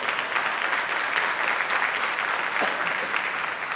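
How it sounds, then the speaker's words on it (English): Audience at a school district's State of the District address applauds, a thick, sustained crowd clapping that stays even and fairly loud throughout, with no voices over it. "Let's give them a round of applause."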